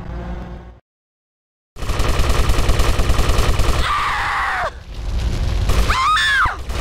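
Video game gunfire in GTA Vice City, rapid repeated loud shots in dense bursts, broken by a short silence, with groaning and yelling voices and whining effects mixed in.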